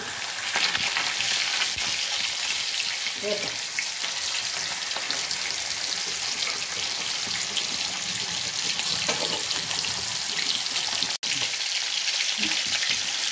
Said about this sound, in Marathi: आता एका बाजूने चांगला तळला का चांगला असा लालसर तळून द्यायचा